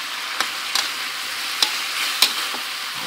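Long beans being stir-fried with oyster sauce in a pan, a steady sizzle broken by several sharp scrapes of the spatula spaced unevenly, close and fairly loud with no voices.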